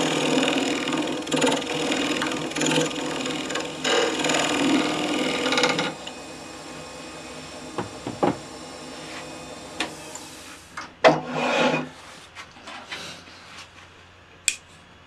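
An oak bowl base is hollowed on a wood lathe, giving a steady scraping hum of the turning tool for several seconds, then the lathe quiets and a few sharp knocks and taps follow.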